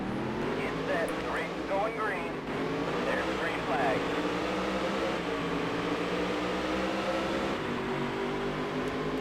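Race cars in the Dirt to Daytona video game accelerating off the start, a dense, steady engine drone with rising gear-change whines, under a voice talking throughout.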